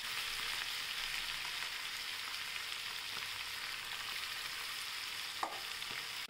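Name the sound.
spinach frying in hot oil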